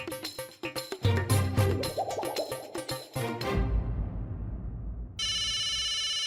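A telephone rings with an incoming call in a busy household, and its bright, repeating electronic ring sounds loud and steady at the end after a burst of dramatic musical stings.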